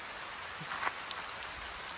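Steady rain falls outdoors during a borewell water experiment, a dense, even hiss of drops with a few louder splashes nearby and no talking.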